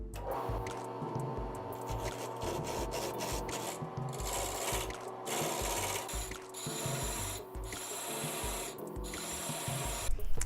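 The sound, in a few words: sanding a turned mahogany piece on the lathe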